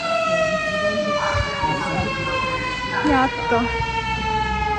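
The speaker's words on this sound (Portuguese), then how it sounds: "O carro do bombeiro tá chegando aqui." Fire truck siren arriving on a street in Tokyo during a building fire alarm evacuation, a loud wailing siren with steady rising and falling tones drawing near, as people talk briefly over it.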